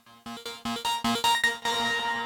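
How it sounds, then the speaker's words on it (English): A white-noise riser built in Cakewalk by BandLab, with its volume automated upward, surges in a series of rhythmic pulses that swell louder step by step before cutting off, heard alone. "it was starting to sound like a riser because I put on the same effect preset that I did on the other white noise one"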